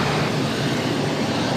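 A jet roars loudly and steadily as it takes off from runway 22 right at Boston Logan, a dense, unbroken engine rumble with no voices.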